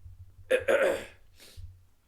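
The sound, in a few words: throat clearing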